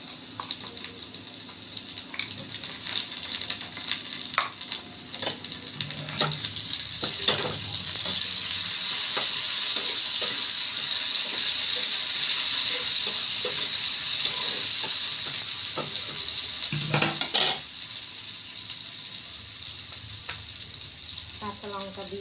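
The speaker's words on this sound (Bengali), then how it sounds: "আমি এখানে রসুন বাটা দিয়ে দিচ্ছি।" Garlic paste fries in a pan with a loud, steady sizzle that builds midway and holds, broken by a few sharp utensil knocks and scrapes, then drops back to a softer frying hiss.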